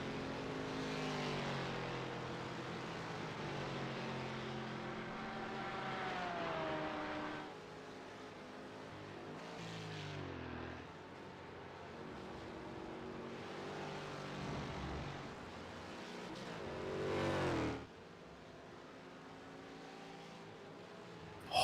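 Race cars in the iRacing video game lapping Road America, with Porsche 935s and Mustangs in the field. A continuous, loud engine drone rises and falls as cars pass, with gear-shift pitch sweeps and a sharp surge near the end.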